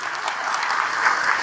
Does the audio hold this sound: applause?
yes